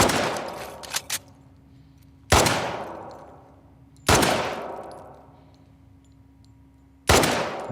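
Heavy rifle shots from The Last of Us Part 2, three loud single blasts spaced a couple of seconds apart, each with a sharp crack and a long decaying tail, preceded by a few quieter clicks.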